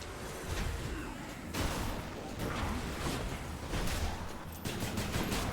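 Repeated loud bursts of explosions and gunfire-like blasts as enemies blow up in the video game Hades, dense and continuous, with sharper booms at intervals.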